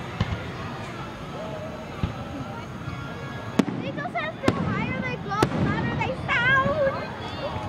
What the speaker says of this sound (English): I'm in Florida watching the fireworks.